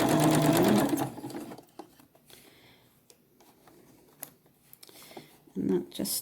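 A domestic sewing machine stitches fabric for a festive corn decoration, giving a fast, even mechanical whir at close range, with someone talking over it at the start and again briefly near the end.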